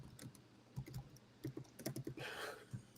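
Someone types on a computer keyboard in a run of uneven, clicking keystrokes, close and quiet, with a brief burst of louder clatter near the end and no talk.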